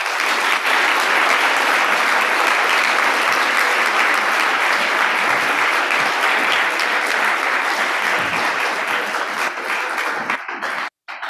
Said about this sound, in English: Let's give Barton, Grayson, and Xander another round of applause.